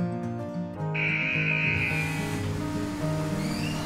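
A hissing spray of water strikes a dirty toy SUV during a wash, the steady rush running beneath louder melodic music.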